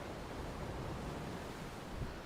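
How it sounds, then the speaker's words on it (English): Ocean waves wash onto a shore at a waterhole, a steady, broad hiss of surf with no distinct breaks, moderately loud and continuous, with no voices. "Ellie, the waves sound beautiful here"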